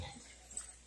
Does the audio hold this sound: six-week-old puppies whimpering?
yes